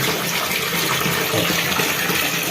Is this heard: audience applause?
no